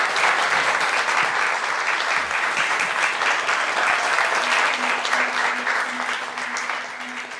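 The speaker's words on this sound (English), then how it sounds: "Let's give a round of applause for Vrinda for her presentation." Audience members applaud a speaker after her art presentation at a spiritual festival. The clapping is strong and steady for several seconds, then eases off slightly, with a faint tonal hum underneath near the end.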